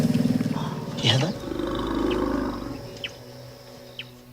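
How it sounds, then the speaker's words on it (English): Elephants calling close by in the African bush, a deep rumble and roar with a sharp rising trumpet blast early on, followed by lingering low rumbling and faint clicks from the surrounding herd. "We are literally surrounded by elephants."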